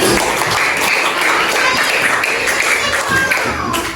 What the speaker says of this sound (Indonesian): Tepuk tangan kelompok yang Andi.